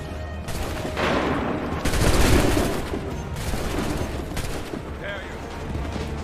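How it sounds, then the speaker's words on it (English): Musket volleys crack out in a battlefield scene from the Assassin's Creed 3 video game, several loud overlapping bursts of gunfire with booming echoes, shouted commands mixed in among the shots. "Open fire!"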